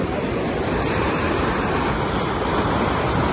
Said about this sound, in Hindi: पानी स्पीड देखो